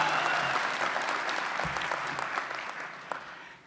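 A university commencement audience claps and cheers in a large hall, dense sustained applause close and loud that slowly tapers toward the end.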